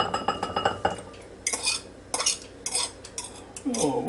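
Cooked omelet ingredients from a Ninja Foodi are scraped and dropped into a bowl, with close utensil clinks and clatters against cookware coming in irregular bursts, ending with a soft rustling scrape.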